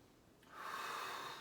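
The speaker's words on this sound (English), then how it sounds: "we're going to do 5 more deep breaths here" A deep breath during a full body mobility routine, starting at about half a second as a steady, close airy rush that holds to the end, with no talking.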